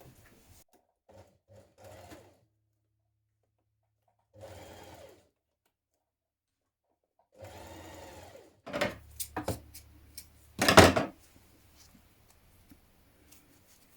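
Sewing machine stitching a T-shirt shoulder seam, several short, soft bursts of needle whirring separated by pauses, then a few louder knocks and handling clunks close by.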